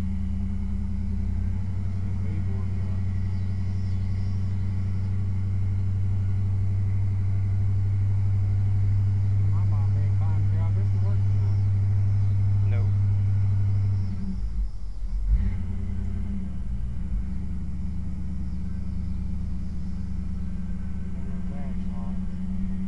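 A Chevy Chevelle engine idles steadily while warming up, a loud, continuous low rumble close by that holds unchanged for most of the span, briefly dipping near the end before settling again. A few faint voices sit underneath.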